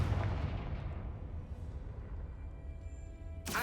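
A Confringo fire spell blasts in Hogwarts Legacy, a deep booming explosion with a low rumbling tail that fades, then a sharp bright crack at the end.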